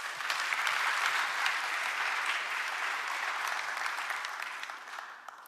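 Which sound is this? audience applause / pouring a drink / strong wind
audience applause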